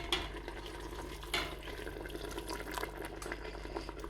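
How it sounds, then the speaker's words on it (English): A pot of fish stew bubbles and crackles softly at a low simmer, steady and close, with a low hum underneath and no talking. "we're going to allow it to simmer"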